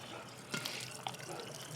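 Faint running water from an old well splashing and trickling steadily, with a few distinct drips, and no talking.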